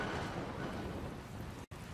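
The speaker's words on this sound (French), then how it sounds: "On dirait qu'une nouvelle tempête approche." Storm rain and rumbling thunder in Dragon Quest Builders 2 form a dense, steady roar that continues throughout, broken only by a brief cut near the end, with no voices.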